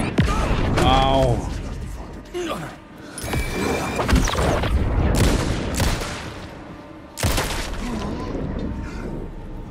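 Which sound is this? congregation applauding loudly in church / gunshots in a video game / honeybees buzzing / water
gunshots in a video game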